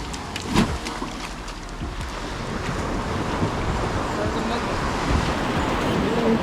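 A boat ride at sea off Devbagh near Malvan, with a steady engine drone, water rush and wind buffeting the microphone throughout.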